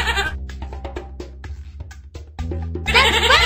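A goat bleats in long, wavering, loud cries, one after another, with a short gap in the middle and the final bleat rising harsher at the end.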